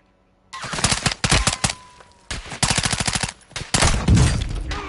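Enemy sniper gunfire in Warzone 2.0 cracks out as a rapid run of loud, close shots in dense bursts with short gaps, broken by a brief pause before more fire resumes.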